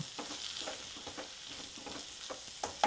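Beef hits a pan of frying onions for a Kerala beef dish, giving a soft steady sizzle broken by scraping stir strokes and a couple of louder clinks at the end. It sounds close but fairly quiet.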